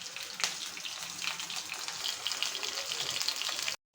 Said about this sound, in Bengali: আমি ওখানে এক এক করে এই পিসগুলো একটু ভেজে নেব